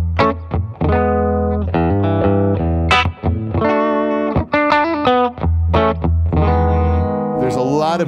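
A Pete Anderson Eastsider Custom electric guitar played on its bridge pickup rings out loud, driven notes and chords in short phrases, with brief pauses between them.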